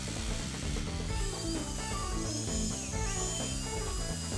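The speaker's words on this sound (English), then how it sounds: "we will drill pilot holes using our hammer drill" A hammer drill boring pilot holes into a concrete door threshold, a steady close whirring grind with a rapid rattling beat, loud and continuous throughout.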